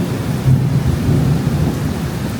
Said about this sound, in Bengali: একেবারে মুষলধারে বৃষ্টি